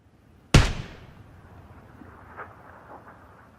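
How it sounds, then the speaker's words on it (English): A single sharp sniper rifle crack in PUBG bursts out loud and abruptly, then trails off into a long fading echo with a few faint distant pops afterward. "At number 7, sniper shots in PUBG"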